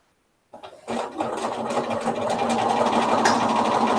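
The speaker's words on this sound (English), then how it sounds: "flip it over and sew these webbed pieces together" A sewing machine stitches pieces of webbed fabric together, starting after a brief silence with a few slow stitches, then running at a steady, fast mechanical hum close by.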